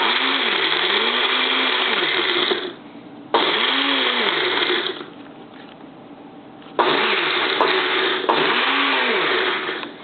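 A countertop blender whirs loudly in three separate bursts, each run of strawberry smoothie ingredients churning with a looping, wavering motor pitch, followed by brief quiet gaps.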